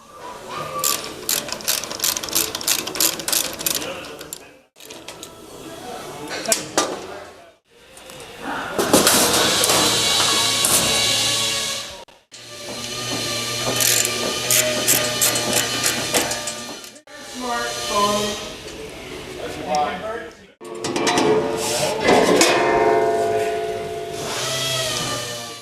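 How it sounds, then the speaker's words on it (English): A ratchet wrench loosens the guard bolts on a Norfield 1120 double end trim saw, with rapid clicking pawl bursts in several long runs separated by brief pauses, loud and close with a metallic mechanical rattle. "We should be able to just loosen these bolts up and the two on the end. Take the guard off."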